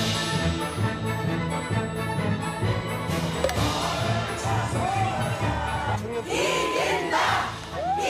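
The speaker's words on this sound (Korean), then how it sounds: "이 후보들 우리 사옥 들어올 때 아주 함성 소리도 대단하던데요." A crowd of political supporters cheers and chants rhythmically outside before a televised debate between Han Dong-hoon and Hong Joon-pyo. Some drumming is heard amid a continuous loud roar, and rising shouts swell near the end.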